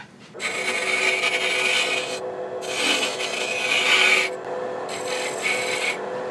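A cherry burl wood box being thinned down on the lathe, a continuous close rasping scrape of the tool on wood in long passes broken by brief pauses, no talking.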